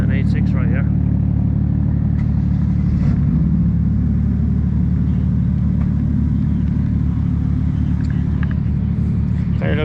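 Toyota AE86 at a hot, busy drift event, its engine a loud, steady rumble droning throughout, with crowd noise and scattered background voices mixed in.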